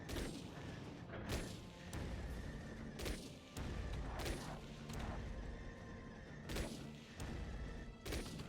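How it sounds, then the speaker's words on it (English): Gunfire and cannon blasts from the Chromehounds mech combat game, repeated heavy booms at irregular intervals roughly every second over a dense, rumbling battle background. "They've got a long-range cannon over here, too."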